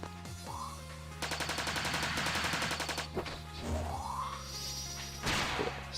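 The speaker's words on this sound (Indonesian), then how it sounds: "Suara senjatanya jadi rada gimana gitu. Tuh. Perpet kayak ini ya." Rapid gunfire bursts from a rifle in the video game Battle Moon Wars, a dense stuttering volley of shots in the middle with whooshing sweeps and a crash-like hit before and after, over steady game music.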